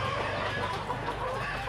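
A hen clucks steadily on a farm in Buruanga, Aklan while laying an egg, a close, continuous fowl call with a low broadband background and no talk.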